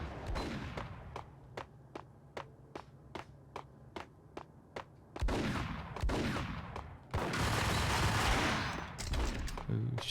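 Gunfire in the video game Max Payne: a regular run of sharp single shots, then dense overlapping bursts and loud sustained firing, with faint speech mixed in.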